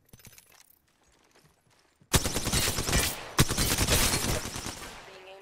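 Automatic gunfire in Apex Legends erupts after a quiet stretch, loud close bursts of rapid shots running continuously with a brief break before resuming.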